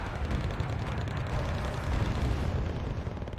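SRV 121 artillery providing fire support in the strategy game Wargame: Red Dragon, a dense continuous rumble of distant blasts and booms with no clear gaps, steady and heavy throughout.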